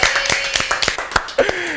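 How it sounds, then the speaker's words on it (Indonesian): Scattered hand claps from an audience at a talk-show style event, a handful of distinct sharp claps spread unevenly over a short span with a voice lingering underneath. "boleh tepuk tangan."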